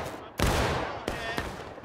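Musket volley in War of Rights, a sharp loud crack at the start and two more shots a second later, ringing out over the distant din of battle.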